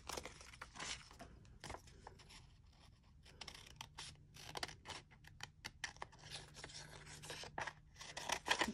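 Scissors snip through paper envelopes for junk-mail collage, a string of close, sharp cuts with light rustling and paper handling in a quiet room.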